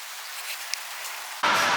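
Steady hiss of rain falling, with a sudden louder, closer wash of rain sound near the end.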